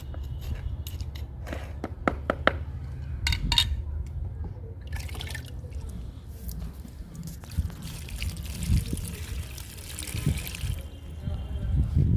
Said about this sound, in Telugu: వాటర్ ఇస్తున్నాను